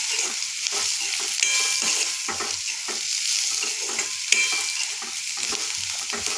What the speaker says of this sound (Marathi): आता यामध्ये मी बारीक चिरलेली कोथिंबीर घालत आहे. आता हे सर्व व्यवस्थित परतून घ्यायचे आहे.